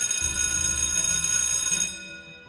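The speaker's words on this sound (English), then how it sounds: "I don't care about that bell ringing" A school bell rings in a loud, continuous electric clatter that holds steady for about two seconds and then cuts off, leaving a quiet room tone behind.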